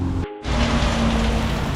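Steady rain falling outdoors beside a 1960s-era C10 pickup, a continuous broadband patter with a brief dropout near the start, then loud and unbroken to the end with no voices.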